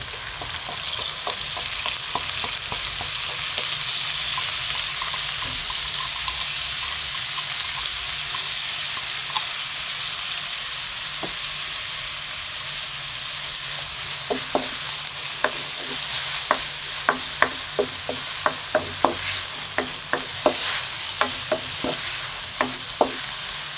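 Sliced onion sizzles in a frying pan for a Filipino squash-in-coconut-milk dish, a steady hiss under a run of sharp clicks and scrapes from the stirring utensil, growing busier toward the end, with no talking.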